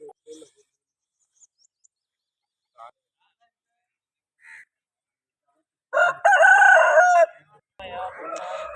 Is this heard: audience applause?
no